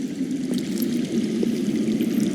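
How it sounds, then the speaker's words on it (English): Underground water flowing in the Game of Thrones Telltale video game, a steady rushing, pouring wash that holds even throughout, heard alone at moderate volume. "I hear water. From underground?"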